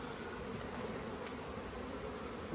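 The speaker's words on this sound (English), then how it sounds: "See, the new bees are flying there already." Honey bees from a nucleus colony buzz steadily around a full-sized hive as they are transferred into it, a continuous close swarm hum with a few louder passes.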